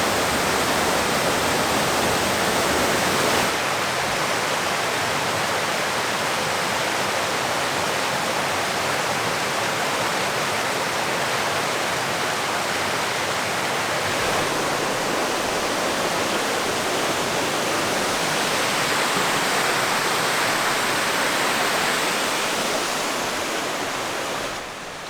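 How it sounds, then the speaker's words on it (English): Carrot Creek Falls, a modest waterfall along a hiking trail in South Carolina, pours with a steady, loud, broadband rush of falling water that holds nearly constant throughout, with no voices. "This is Carrot Creek Falls. Decent waterfall."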